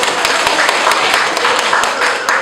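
Rapid, steady clapping from a group of people, sharp regular claps over a dense bed of applause, fairly close and loud with no talking over it.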